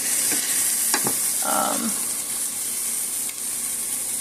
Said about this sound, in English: And we want to toast the rice as well.